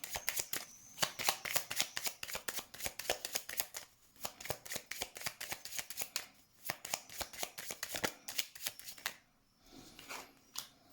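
An oracle card deck being shuffled by hand, rapid crisp riffling bursts in quick succession with brief pauses between, close and alone with no talk.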